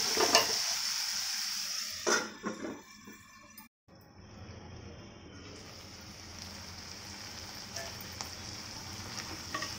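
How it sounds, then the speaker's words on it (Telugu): Capsicum and tomato curry sizzles in a pan as it is stirred, with a few clattering spatula scrapes early on, then a short break and a quieter steady frying hiss. "కలుపుకుంటూ ఫ్రై చేసుకోవాలి వీటిని."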